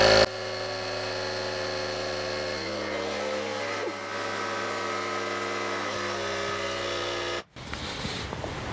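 A GOOLOO AP150 PRO portable tire inflator pumps up a bike tire toward about 54 PSI. It makes a steady, close mechanical buzz and hum that cuts out near the end, followed by a brief hiss.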